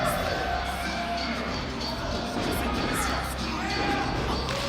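A wrestling arena crowd cheering and shouting for Gangrel, a dense, continuous roar with scattered whoops, under talk from commentators.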